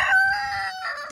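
A rescued rooster crows loudly and close by, one strained harmonic call that holds and then tails off, with other roosters nearby.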